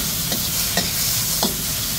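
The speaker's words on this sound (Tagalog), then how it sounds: "Gisa lang muna natin saglit guys para medyo maluto ng konti" Sardines tossed with string beans and cabbage in a pan, giving a steady, fairly loud sizzle with a few soft stirring scrapes at intervals, no talking.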